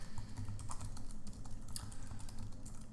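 Keys clatter on a computer keyboard in quick, irregular bursts of typing, moderately close and steady over a low background hum, with no one speaking.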